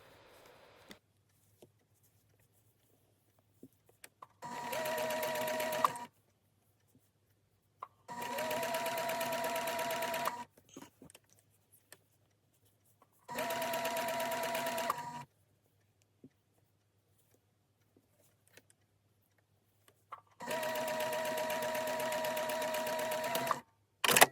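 A sewing machine stitches a knit neckline band in four separate bursts of steady whirring, each lasting a couple of seconds, with quiet pauses and small handling clicks between them.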